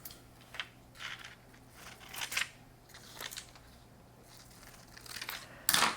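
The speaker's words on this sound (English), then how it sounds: "You're going to cut on the dark, bold lines" Scissors cutting paper in short, separate snips spread through a quiet room, soft and close, with a louder rustle of paper at the end.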